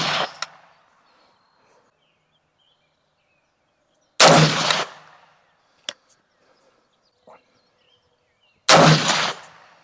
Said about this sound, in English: Let's shoot a group at the bottom left target.